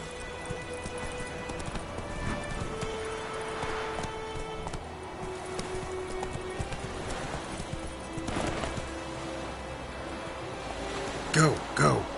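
Horse hooves clip-clopping at a steady galloping rhythm in The Witcher 3: Wild Hunt, continuous over light rain-like ambience, with a rider's brief voice and a couple of louder bumps near the end.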